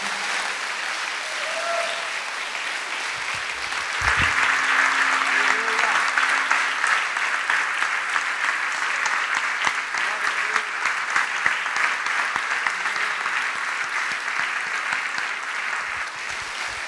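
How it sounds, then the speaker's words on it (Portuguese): A church congregation stands and applauds during a service, dense loud clapping from a large crowd that builds slightly and continues steadily throughout, with faint voices mixed into the din. "Vamos ficar de pé e aplaudir ao Senhor por todos eles, com muita alegria em nosso coração."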